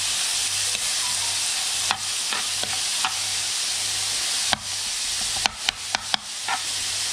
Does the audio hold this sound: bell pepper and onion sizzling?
yes